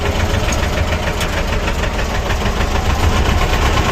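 A tractor engine idles close by with a steady, knocking rumble that holds evenly throughout, with no voices.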